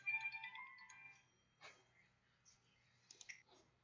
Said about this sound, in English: Who's getting a phone call?